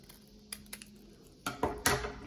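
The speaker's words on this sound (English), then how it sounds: "I'm going to cut on this loose edge." Scissors snip through folded tissue paper for papel picado, a few soft, close cuts in quick succession with small rustles between them.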